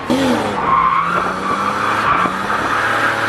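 A car with a welded differential drifts at a cone course, tires skidding and squealing in a continuous, loud screech with a steady engine note underneath throughout.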